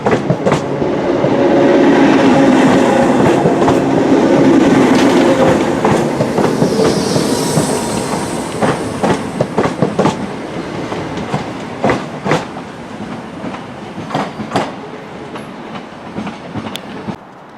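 A British Rail class 377 electric train rolls through a station, its loud rumble building and then giving way to rhythmic clickety-clack of wheels over rail joints that thins out as the carriages pass.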